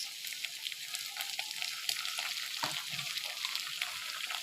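Minced meat sizzling steadily in a hot pan as tomato sauce goes in for a homemade pizza topping, a close, even frying crackle with soft stirring scrapes throughout.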